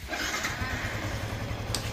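A motorcycle engine idles at a steady, low, chugging rhythm, moderately loud and close, with no one talking.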